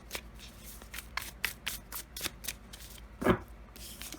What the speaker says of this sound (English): Let's draw some tarot cards as well.